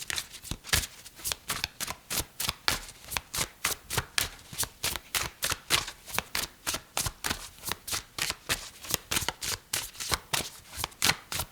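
A deck of tarot cards being shuffled over and over, producing a fast, regular series of crisp riffling bursts, each about a third of a second long, close up and evenly paced throughout.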